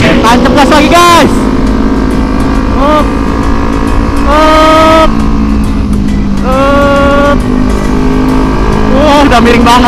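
Modified Kawasaki Ninja 250 FI supermoto motorcycle revving hard through repeated full-throttle accelerations and gear shifts, loud and close, with a person talking over the engine.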